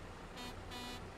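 Car horn honks twice in a truck driving video game, two short blasts with a gap between them, loud over a steady engine hum.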